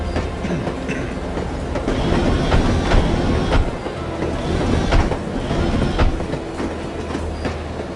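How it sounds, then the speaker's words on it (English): A moving train in the video game No One Lives Forever, with steady rumble, rhythmic clickety-clack of wheels over rail joints and occasional metallic clanks, close and continuous. "I love riding the train."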